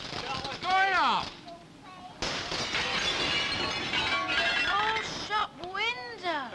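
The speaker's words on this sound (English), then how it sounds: "Plate glass. Meant to be looked through, not broken." A shop's plate glass window smashes with a loud, sustained crash and scatter of shards, framed by excited, high-pitched voices talking before and after.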